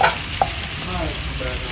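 Marinated pork tossed with mushrooms in a pan sizzles continuously, with a short stirring scrape near the start and a soft, even frying hiss throughout.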